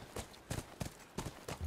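Horse hooves clip-clopping in a steady rhythm in The Last of Us Remastered, roughly four distinct strikes over a short stretch, fairly close and clear with no talking.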